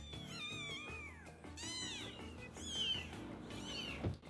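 Several kittens meow in a string of high, thin, wavering cries, one after another with short gaps, fairly quiet and close, with no talking over them.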